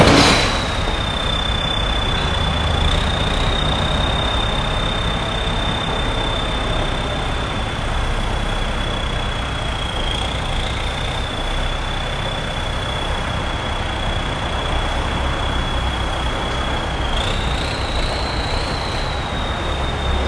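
A used Kubota-style L5018 farm tractor engine running steadily, a loud, continuous diesel drone with a sustained high whine that wavers slightly in pitch, heard close and alone for about twenty seconds.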